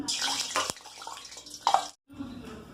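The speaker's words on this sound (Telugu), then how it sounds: "పిండిలో అయితే వాటర్ వేసి కలిపేసుకుంటాం" Water splashes and trickles briefly into a bowl of batter, a short burst of liquid pouring and stirring, fairly close, ending in a sudden pause.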